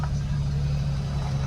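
An off-road vehicle crawls along in four-wheel-drive low range, its engine giving a steady low rumble that holds even and close throughout without any revving.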